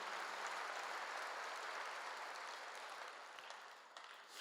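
A church congregation claps together, a dense even patter that holds steady and then thins slightly toward the end, heard from within the hall.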